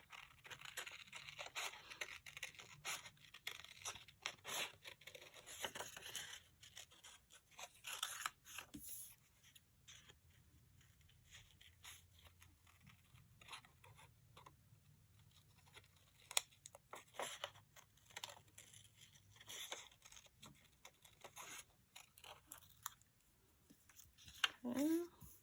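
Scissors snipping through paper while cutting out a shape slightly larger than a drawn outline, a run of close, crisp crunching cuts and rustles with pauses between strokes.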